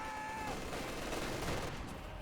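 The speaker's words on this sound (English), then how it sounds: "Looks like got some Brens being employed on the line." Dense, continuous bursts of Bren light machine gun fire and overlapping shots in the World War II strategy game Company of Heroes 2, a steady, loud battlefield clatter with no pauses.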